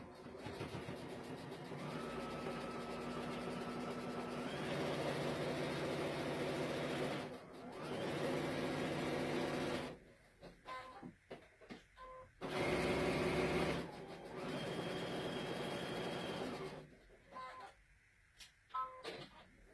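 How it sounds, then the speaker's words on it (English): A sewing machine stitches across the flap of a fabric nursing cover in long steady whirring runs, pausing with brief clicks and handling noises before running again, heard up close. "sew the rest of the way all the way across this little flap right here"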